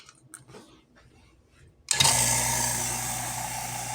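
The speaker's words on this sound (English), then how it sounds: "So I'm going to turn the vacuum on." A vacuum pump on a vacuum chamber used for quick pickling switches on partway through, jumping from quiet room sound with faint talk to a loud, steady motor drone with a low hum that holds for the rest.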